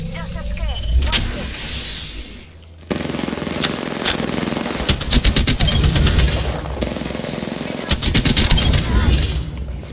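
Gunfire in the video game Apex Legends crackles in rapid bursts through most of the stretch, loud and close, with a brief lull near the start and a voice talking at points over the shooting.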